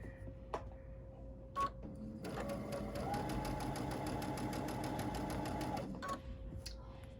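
A sewing machine stitches a fabric face mask, running in a steady rapid chatter for about three and a half seconds between a few soft handling clicks and a quiet room hum.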